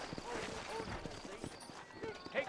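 Faint, quick hoofbeats of a horse clip-clop for a couple of seconds in the Western video game Red Dead Redemption, soft and somewhat muffled.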